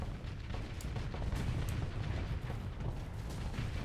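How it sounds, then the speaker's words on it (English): Missiles exploding against ships in the space combat game Starsector, a dense run of low rumbling booms and blasts layered into a continuous roar, with sharper pops breaking through now and then. "I just spent a lot of missiles on you."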